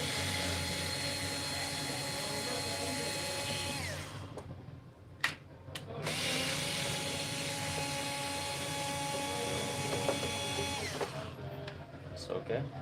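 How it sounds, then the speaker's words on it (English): An electric drill driver removes screws from a Growatt solar inverter in two long, loud whirring runs broken by a brief pause with clicks, a voice speaking faintly underneath. "now I need to remove this two screws."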